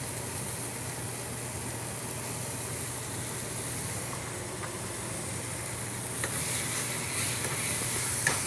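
Eggs frying in a pan with slightly burnt, crispy onion in a home kitchen give a steady, dense sizzle throughout, with faint stirring scrapes toward the end and no talking.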